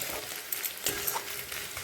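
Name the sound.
snake gourd frying and being stirred in a pan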